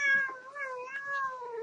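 A house cat meows close to the microphone, a drawn-out wavering call with a couple of rising and falling inflections, alone in a quiet room.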